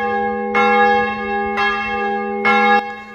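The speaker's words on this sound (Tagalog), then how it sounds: "biglang tumunog yung kampana mula sa simbahan na malapit sa amin" A church bell strikes three times at a steady, unhurried pace, each ring clear and resonant, with a hum lingering between strokes.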